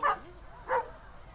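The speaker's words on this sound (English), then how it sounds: "And she's turned into a dog." A cartoon dog in a My Little Pony episode gives two short, bright barks about half a second apart, clear and close with nothing else behind them.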